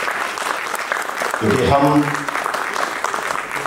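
Audience applause at a Sikh arts and film festival stage event in India, a burst of clapping rising briefly mid-clip while a host keeps speaking over it.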